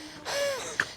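A single person's heavy, gasping intake of breath, close and fairly loud, drawn out with a whistling edge and ending in a short sharp catch.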